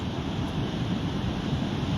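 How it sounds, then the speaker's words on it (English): Big ocean waves rolling in along a shore, heard as a steady, loud broadband wash of surf with some wind rumble, continuous for the whole stretch with no pauses and no voices. "Look at these big waves rolling in."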